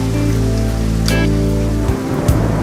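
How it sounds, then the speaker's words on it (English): Heavy rain pours steadily onto a surface outdoors at a junkyard, a dense constant hiss that fills the whole stretch, with a few faint knocks near the end. "it's raining right now"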